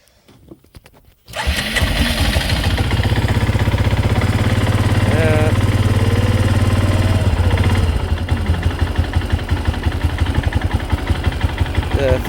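A 2003 Arctic Cat 400 4x4 automatic ATV engine cranks and catches after a quiet moment, then runs at a steady, loud, close idle and eases slightly lower near the end.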